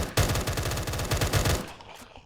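Rapid automatic gunfire in the Minecraft Cursed Walking video game, a loud sustained burst of closely spaced shots lasting about a second and a half before cutting off.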